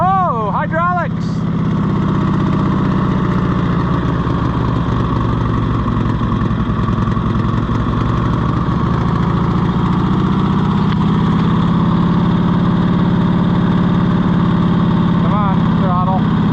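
Small Cushman Truckster utility vehicle engine idling steadily and fairly loud throughout, a continuous low mechanical drone with voices talking over it.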